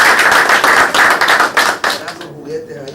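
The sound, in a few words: audience applause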